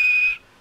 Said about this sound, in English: And he blew his whistle.